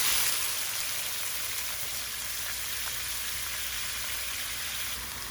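Shrimp fry in a couple tablespoons of peanut oil in a very hot wok, a steady, dense crackling sizzle that holds evenly and close throughout with no talk over it.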